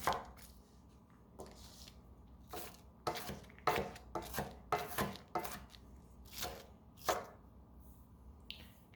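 An onion being chopped with a knife on a cutting board, a close series of irregular crisp cuts and taps with short pauses, quiet and without talk.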